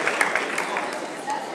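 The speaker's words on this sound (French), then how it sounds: "Vous pouvez applaudir l'équipe cadette." Brief burst of audience clapping for a cadet sports team at a sports awards night in Berre-l'Étang, moderately loud, with crowd murmur and a voice mixed in.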